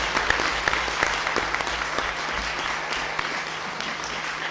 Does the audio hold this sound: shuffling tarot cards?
no